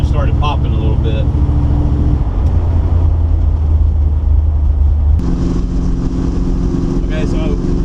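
A car fitted with a Thermoquad carburetor pulls hard in third gear, a loud droning engine note that drops and then rises in pitch as it shifts, with a voice speaking briefly over it.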